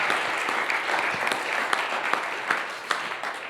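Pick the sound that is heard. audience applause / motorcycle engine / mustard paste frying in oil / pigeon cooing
audience applause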